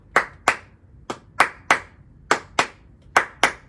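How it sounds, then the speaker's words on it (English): Crisp, dry hand claps programmed as a beat element in a remake of a song, sharp isolated hits in a loose repeating rhythm, some in quick pairs, loud and close with nothing else underneath. "Next up for the song is a clap."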